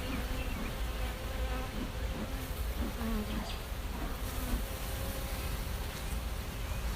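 Agitated honey bees swarm around an open hive that has hive beetles, making a dense, continuous buzzing with individual bees droning close by.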